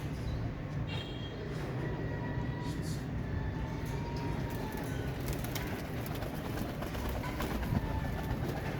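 Teddy breeder pigeons in a loft coo softly under a dense, steady rumbling background with faint rattling.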